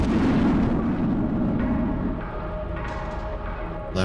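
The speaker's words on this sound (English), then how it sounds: "Use the grenade." A loud, heavy grenade blast in a video game booms at the start and then decays into a long rumbling tail with scattered debris.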